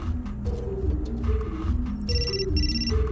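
A phone rings in the video game Still Life 2, a repeating electronic trill in short bursts over a low droning game soundtrack.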